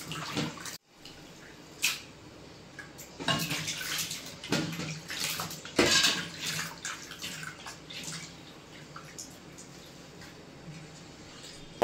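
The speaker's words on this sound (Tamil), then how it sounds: "இது லாஸ்ட்டாக மஞ்சத்தூள் போட்டு 2-3 தடவை அலசி எடுக்கிறோம்" Mutton pieces being rinsed with turmeric in water, with sloshing, splashing and swirling water in uneven bursts throughout, plus occasional handling clatter, fairly close and without talk.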